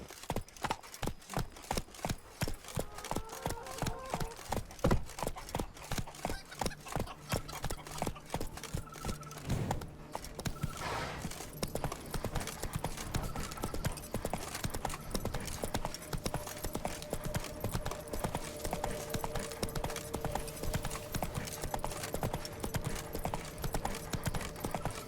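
Roach, a horse in The Witcher 3, gallops in a steady rapid rhythm of hoofbeats, clear and continuous for a long stretch, with a brief snort or whinny along the way.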